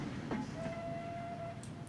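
A tram runs in the railway simulation game Transport Fever, with soft rumbling wheels, a brief squeal and a faint sustained whine at low level, accompanied by a few light clicks.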